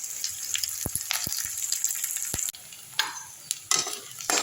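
Curry leaves sautéing in hot oil for cabbage rice, a steady close sizzle broken by sharp spoon scrapes and stirring clatters, with a few louder hissing bursts toward the end.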